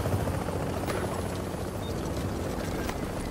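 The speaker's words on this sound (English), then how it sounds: "Chopper is inbound." A helicopter arrives in the video game The Division, its rotor thumping loudly and continuously, close and alone with no speech.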